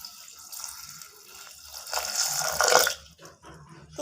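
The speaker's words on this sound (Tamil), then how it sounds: "ஒரு கிளாஸ் தண்ணி சேர்த்துக்கலாம்." A glass of water poured onto chopped beetroot in a pressure cooker, a short splashing pour that swells over about a second and then stops, close and moderately loud.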